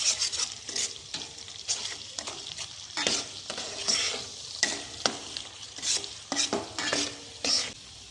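Pointed gourd pieces being stirred in a pan with turmeric, salt and chilli powder, with repeated scraping strokes of a spatula over a soft sizzle and occasional metallic clinks, close by and without speech.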